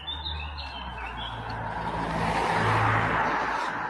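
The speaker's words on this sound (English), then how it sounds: "The birds are going to sing louder" Birdsong chirps outdoors at the Szczawnica health resort in Poland, bright tweets scattered over a steady low hum of passing traffic, fairly continuous and moderately loud, no one talking.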